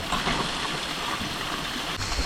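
A low-flow waterfall spills down stepped rock tiers on a forested mountainside, giving a steady, moderate wash of running water with no voices.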